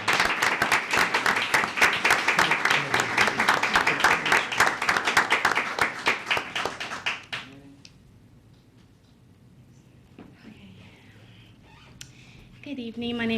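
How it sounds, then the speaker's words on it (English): An audience at a city mayor and council meeting gives steady, dense applause for roughly seven seconds, which stops abruptly and is followed by quiet room sounds and a voice beginning to speak. "a round of applause for accepting"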